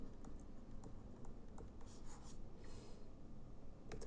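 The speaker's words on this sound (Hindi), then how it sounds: "यहाँ हम लिख देंगे इवेंट और इस साइड लिखेंगे सिंबल" Pen or marker writing event and symbol headings on a board or paper during a lesson on Buddhism, with soft, steady scratching strokes and a few brief taps, fairly faint, no talk.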